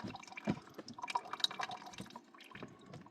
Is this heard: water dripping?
yes